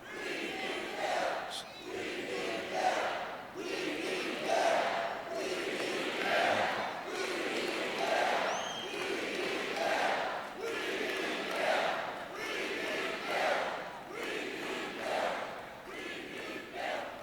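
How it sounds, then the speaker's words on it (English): A large political convention crowd cheers and shouts in steady rhythmic waves, loud and continuous, with chant-like swells repeating every second or so. "They told me to quiet the crowd, just say Sarah Palin."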